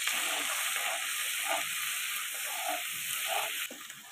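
Spice paste fries in oil in a wok, with a little spice-rinsing water added as it cooks, giving a steady close sizzling hiss with soft stirring scrapes throughout.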